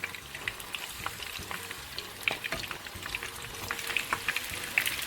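Pumpkin flower and bottle gourd leaf fritters fry in hot oil in a pan, a continuous bubbling sizzle with occasional scrapes and clicks as pieces are turned over, close and steady.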